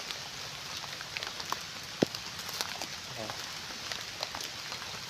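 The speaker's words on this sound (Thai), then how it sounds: "ตอนนี้ก็ ฝนลงเม็ด เริ่มนักเม็ดแล้วครับ" Rain is beginning to fall in a forest during a mushroom hunt, with scattered drops tapping on leaves and the ground over a soft, steady hiss, plus a few closer sharp ticks.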